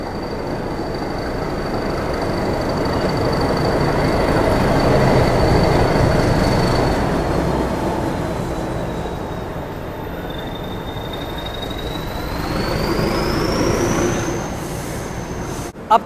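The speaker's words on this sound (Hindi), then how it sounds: "इस बार मैं आपके लिए लेकर आया हूँ 12534 डाउन पुष्पक एक्सप्रेस की journey, operated by north eastern railways" The Pushpak Express passenger train runs from Mumbai to Lucknow, a steady loud rumble of wheels on the track with a long, high wheel squeal that wavers in pitch, heard from on board.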